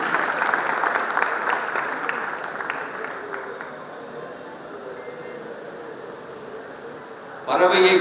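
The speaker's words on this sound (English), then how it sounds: "We should give a very good clap for this team." Applause from an audience honoring a team at a Tamil Nadu drone technology training festival, steady and dense clapping that gradually thins and softens before a sudden louder burst at the end.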